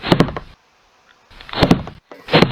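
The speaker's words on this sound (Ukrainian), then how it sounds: "Хтось стукає в двері." Someone knocks on a door in a horror video game, two loud close bursts of rapid raps separated by silence, with no one talking.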